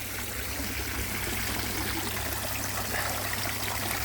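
Water from a garden waterfall runs in a steady, loud, close rush, continuous and unbroken, with no talk.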